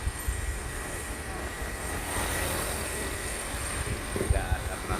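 A helicopter flies over a flooded area of Aceh Tamiang in 2022, its engine and rotor making a continuous loud roar with low rumbling throughout.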